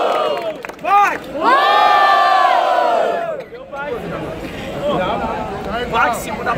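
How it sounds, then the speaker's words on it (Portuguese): Crowd at a rap battle event roaring and cheering in loud bursts, with shouts, whistles and chatter rising and falling throughout. "Quem achou melhor as rimas de Plaque, faça barulho"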